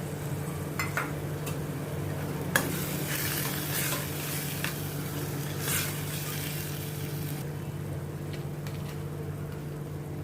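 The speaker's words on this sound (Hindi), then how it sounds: "इसमें मैं अभी ये चना दाल डालती हूँ भिगी हुई" Soaked chana dal gets stirred into a frying pan with tomatoes, a continuous sizzle under scraping spoon strokes and a few sharper clinks against the pan, close and steady without speech.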